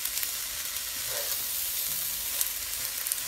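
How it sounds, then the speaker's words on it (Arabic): Rice with stuffing and boiled carrots sizzles steadily while browning in a frying pan, a close, continuous crackling hiss with faint stirring. "بس شوية نحمرهم شوي هيك مع الرز"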